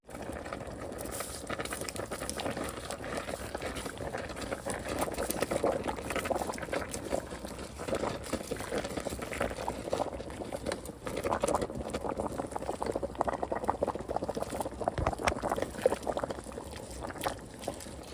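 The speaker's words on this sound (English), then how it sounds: "I got my water boiling for my noodles, getting ready to drop them" A pot of water at a rolling boil for cooking spaghetti noodles, a steady bubbling hiss with scattered pops, moderately quiet and continuous.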